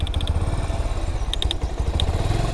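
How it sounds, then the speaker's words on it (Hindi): A washed motorcycle running with an odd noise: a rapid low engine putter under repeated clicking ticks that come in short bursts, close by and fairly steady, with no talking. "बाइक धोने के बाद इस पर अजीब सी आवाज़ आ रही है।"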